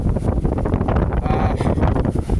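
Strong coastal wind buffets the microphone in a steady, loud rumbling roar with gusty surges, drowning out any other sound for the whole moment.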